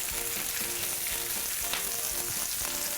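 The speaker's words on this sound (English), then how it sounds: "Now, we put in our sausages, our bratwurst." Bratwurst sausages frying in a pan, giving a dense, steady sizzle and crackle with faint utensil knocks, loud and close, no voices.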